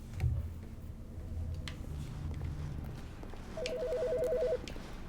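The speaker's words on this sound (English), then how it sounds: "There's a phone ringing." Telephone ringing in the video game The Stanley Parable, a short warbling electronic ring that rises over quiet ambient room tone and faint ticking, after a low rumble.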